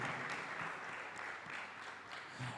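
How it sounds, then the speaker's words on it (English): Audience applause for Team Proposition at a televised school debate semi-final, a steady wash of clapping at moderate, slightly distant level lasting the whole moment with no voices. "A round of applause for Team Proposition."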